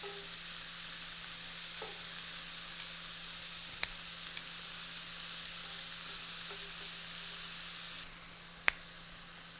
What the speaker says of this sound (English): we want to grill this maybe a minute per side, just until the shrimp is cooked through